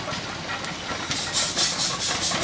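A small steam traction engine, freshly painted, vents steam at a steam show: a loud, close, broadband hiss that swells after a quieter first second and keeps puffing in rough pulses.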